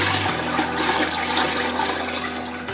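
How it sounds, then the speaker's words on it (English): Goose stock poured through a strainer into a second pan, giving a steady, close rush of liquid that runs almost three seconds with no talk. "I had to use a second pan here, so we'll strain this one through."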